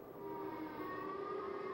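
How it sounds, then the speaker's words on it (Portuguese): Tornado warning sirens wailing in a steady, sustained tone, fairly faint and distant, with no voices over them. "Enquanto as sirenes de tornado tocavam"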